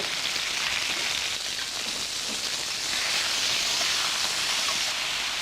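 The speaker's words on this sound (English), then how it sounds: "this needs to be stir-fried immediately" Garlic and meat sizzle steadily in a wok during a stir-fry, a dense, loud hiss of frying that holds continuously from start to finish with no talk over it.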